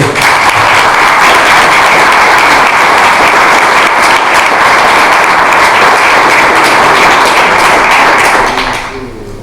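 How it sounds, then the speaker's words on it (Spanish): A conference audience at a talk on politics and housing claps loudly for a volunteer group's president. The sustained, dense applause fills nine seconds, then fades briefly at the end. "pido un aplauso para él"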